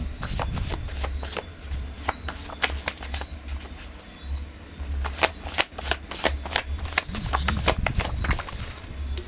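A deck of tarot cards is shuffled by hand at close range, a continuous rapid riffling and flapping with soft thumps as the cards are squared.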